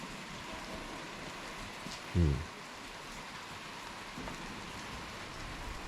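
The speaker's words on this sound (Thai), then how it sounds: "แล้วก็ฝนตกด้วย" Steady rain falls at about 6 pm at Toscana Khao Yai, a dense even hiss with a brief low thump in the middle; no voices.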